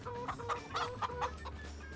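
Chickens clucking in Farming Simulator 25 on an open chicken pasture, a run of short, repeated clucks with steady farm ambience underneath.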